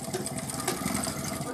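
A home sewing machine stitches fabric with a steady mechanical whirr and rapid rhythmic clatter of the needle, running at moderate volume while someone talks over it.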